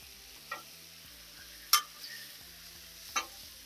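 Marinated, heavily seasoned chicken on a Blackstone griddle with two burners on high gives a faint, steady sizzle, broken by a few sharp clicks and scrapes.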